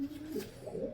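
A racing pigeon gives a soft, low coo, a short murmuring call heard up close and alone.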